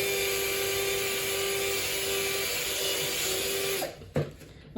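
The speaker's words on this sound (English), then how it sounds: "You take your lid with a drill bit, and you drill a hole into the top." A power drill bit boring a hole into the top of a lid, a steady high whirring that runs for several seconds before stopping, followed by a couple of brief knocks.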